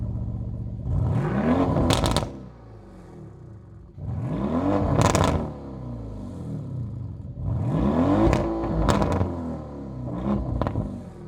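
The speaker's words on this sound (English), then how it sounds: "we've got the active exhaust, even giving us a little noise back there" The active exhaust of a 2025 Lamborghini Urus SE plug-in hybrid SUV swells and fades in repeated bursts, with whirring rises and sharp crackles at the peaks, like it is being revved.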